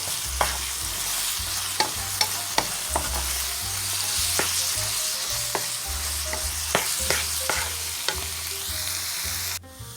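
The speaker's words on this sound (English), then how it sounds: "you're going to continue to cook the ground beef until it's all brown" Ground beef browning in a pan sizzles steadily and loudly, with a spatula scraping and tapping against the pan at irregular intervals, then cutting off abruptly at the end.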